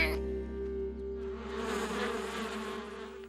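Cartoon bees buzz around a beehive in a Danish children's animated show, a steady insect drone rising in after a brief musical tone and continuing under a quiet background.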